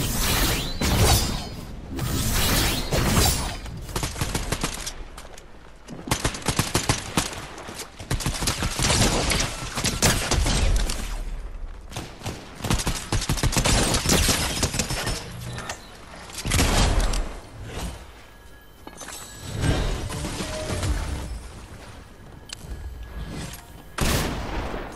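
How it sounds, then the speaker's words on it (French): Gunfire fills a Fortnite match, with dense volleys of shots and mechanical weapon clatter running almost nonstop at high, steady loudness and only brief lulls. "ça tire là-bas, on va aller voir"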